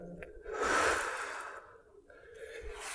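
A long, audible exhale during a yoga session, swelling into a breathy whoosh and then fading, close and fairly quiet, with a softer breath following.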